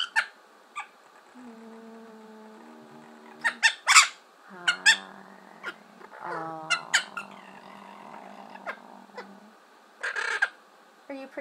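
A yellow-collared mini macaw sits close by, giving sharp squawks and shrill calls in irregular bursts. It mixes in warbling, speech-like mimicry and squeaky chatter.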